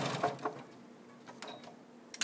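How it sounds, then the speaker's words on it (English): A sewing machine stitching through fabric binding on the sides of a baby buggy, a faint, close, uneven mechanical whir with light clicks and no voices. "So I'm going to sew all the way through."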